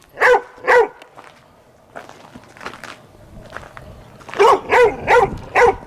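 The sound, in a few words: dog barking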